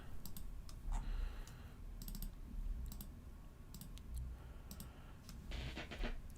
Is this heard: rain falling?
no